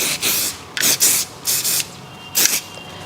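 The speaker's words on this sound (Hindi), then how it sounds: "शाइन स्प्रे का यूज़ कर लो" Shine spray misted onto hair while it is prepared for a traditional braid: five or six short, loud hissing spritzes in an uneven rhythm, close by, with no talking.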